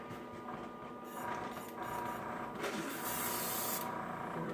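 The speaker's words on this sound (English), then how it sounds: "There we go, spraying good." A spray bottle of homemade cleaner mixed from Windex and alcohol hisses in several close, broadband bursts, the bursts growing longer and louder toward the end.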